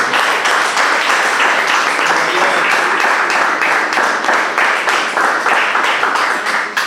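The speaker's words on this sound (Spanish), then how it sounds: "¿Cuánto le dan un aplauso al Señor por eso?" A church congregation breaks into loud, sustained applause, a dense wall of many hands clapping with rhythmic surges throughout, close and full, with no voices standing out.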